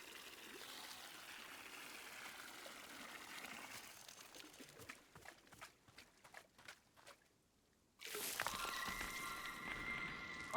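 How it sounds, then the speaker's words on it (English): Water trickles from a watering can onto an egg in a video game, a soft steady pour that breaks into uneven splashes, falls nearly silent, then resumes as a louder gush with a faint tonal chime. "Fill the watering can with water and then pour it onto your new egg."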